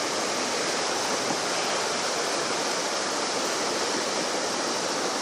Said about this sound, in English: Lovely, clean Australian water following its way down.